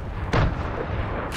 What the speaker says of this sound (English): Grenades!